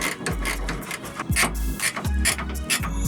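A ratchet wrench works on 8 millimeter nuts holding a 2006 Dodge taillight, giving several quick bursts of clicking ratchet strokes, close and moderately loud, separated by short pauses.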